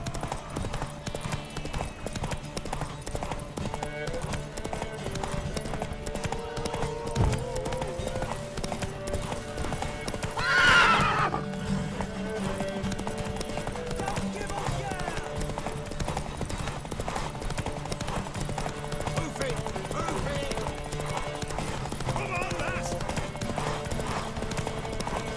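A horse's hooves clip-clopping steadily through The Witcher 3 video game, a continuous rhythmic gallop under game sound, with a short loud neigh-like burst midway.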